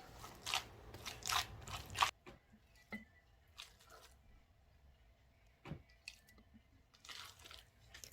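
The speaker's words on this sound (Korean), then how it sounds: "술을 빚을 때 이렇게 치대주는 것이 참 지루하기도 하고 힘들기도 합니다" Rice mash for Korean liquor is worked by hand: wet, squishy slaps and sticky crunching sounds come in bursts, louder at first, then sparse and quiet with soft squelches between.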